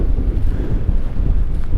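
Strong wind buffets the microphone beside iceberg-filled water in Eastern Greenland, a steady loud roar with gusty low rumble throughout and no voices.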